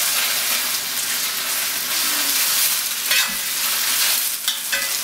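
Pad thai noodles frying in hot oil and being stirred in a pan, a steady close sizzle with scraping stir strokes, no one talking.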